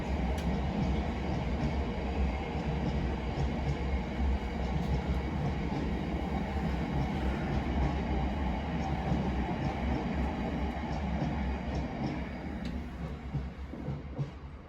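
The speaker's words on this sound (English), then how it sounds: "there's about 200 trains going behind us." Continuous rumble and rattle of trains rolling past close by at a London station, a loud steady roar with faint clicks, easing slightly toward the end.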